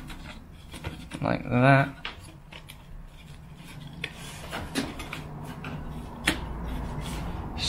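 A wooden stretcher is squeezed and shimmied into place under an antique coffee table being restored, giving short rubbing and scraping wood sounds with a brief squeak, close by, with a few spoken words.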